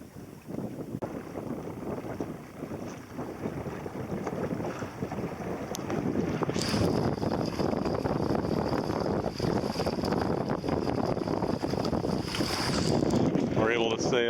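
A sailboat beating close to the wind on a channel crossing during the Everglades Challenge, with steady wind rushing across the microphone and water noise that grows louder and fuller partway through.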